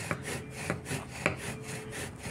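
A wooden bow drill rubs back and forth for a friction fire, giving a rhythmic rasping, sawing sound with regular strokes about every half second, close and steady with no talking.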